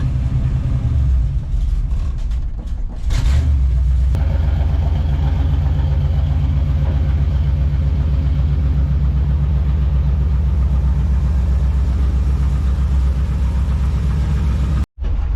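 A 1966 Chevy C10's engine, running again after sitting over three years, settles into a loud, steady, close idling rumble after a few rough seconds, then cuts out abruptly near the end.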